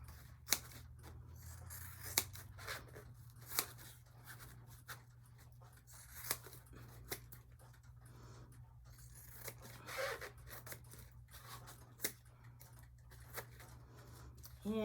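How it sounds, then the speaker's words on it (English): Upholstery foam is trimmed and shaped into a tool, heard as quiet, sporadic snipping and cutting clicks against a low hum, close but faint, with no talk. "And you just keep trimming and shaping this."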